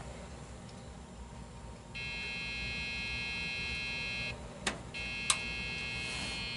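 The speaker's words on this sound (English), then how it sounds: "Oh, it turned back on. Oh, why is it beeping now?" A Dell computer motherboard beeps after powering back on, a steady high tone sounding continuously from about two seconds in, with a short break, over faint background hum.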